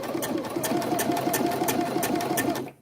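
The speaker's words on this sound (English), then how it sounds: "And here we go, stitching over the hole" Sewing machine stitching over a hole during a fabric repair, a close, fast rhythmic needle clatter running steadily for a couple of seconds before stopping abruptly.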